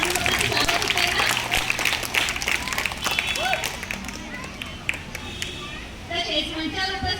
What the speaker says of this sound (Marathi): विद्यार्थ्यांनी छान टाळ्या वाजवायच्या आहे